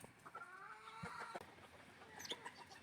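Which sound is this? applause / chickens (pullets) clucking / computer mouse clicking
chickens (pullets) clucking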